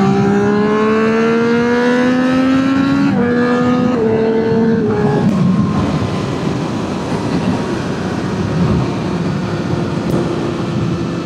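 A Triumph 765RS motorcycle engine pulls in third gear around 4,000 revs, its close, loud note climbing and then stepping down a few times before settling into a steady roar. No one speaks.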